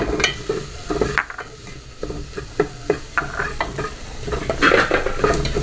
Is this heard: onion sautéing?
yes